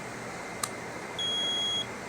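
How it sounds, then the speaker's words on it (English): A homemade solar power generator gives a single steady electronic beep lasting under a second as it is plugged in, clear and close, preceded by a faint click. "You hear that beep earlier."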